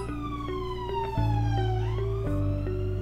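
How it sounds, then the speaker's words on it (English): Siren of a passing emergency vehicle, a wailing tone that slowly falls in pitch as it goes by, heard under a loud, steady background of tones and music with no talk. "A siren went past."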